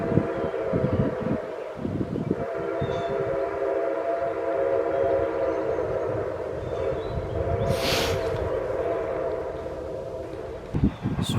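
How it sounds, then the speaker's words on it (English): Nickel Plate train rolling past outdoors, a steady low rumble and rail clatter lasting throughout, with a brief high whistle-like burst midway and wind noise. "I hear the train a-coming. It's rolling around the bend."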